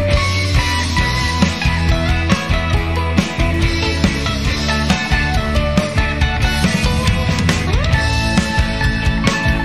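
A full band plays steadily, with a clean electric guitar shimmering through a chorus effect over bass and drums.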